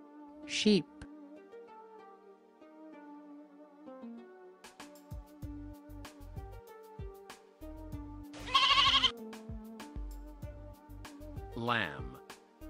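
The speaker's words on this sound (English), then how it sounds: "Lamb." A lamb bleats on a farm, a few short wavering cries heard near and clear, set against a melodic background with a voice speaking in between.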